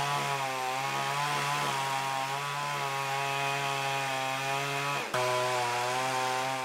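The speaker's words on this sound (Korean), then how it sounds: "전기톱으로 통나무를 절단해 나가는 김수호 명인의 모습이 이채롭습니다." A chainsaw runs steadily at high revs with a strong buzzing drone, briefly dipping near the end before roaring back as it cuts through a log, outdoors in winter in Yecheon, North Gyeongsang, Korea.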